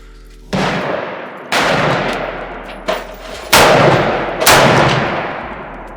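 Old guns fired at a shooting range, five loud sharp reports spaced about a second apart, each with a long decaying echo, close and with no talking.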